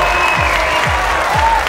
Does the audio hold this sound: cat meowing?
no